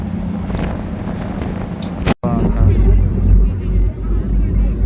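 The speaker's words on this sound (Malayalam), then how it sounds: "കാറ്റടിക്കുന്നുണ്ടോ?" Gusty outdoor wind buffets the microphone during a holiday camping trip on Gozo, a loud low rumble that fills the clip, briefly cutting out near the middle before returning strongly.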